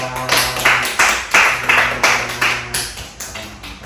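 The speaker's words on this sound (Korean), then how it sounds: "우리 박수, 축복의 박수, 환영의 박수 하겠습니다" A church congregation at a Sunday service claps to welcome a grandmother, the claps falling in an even, rhythmic beat of loud, close strikes over sustained musical tones in the background.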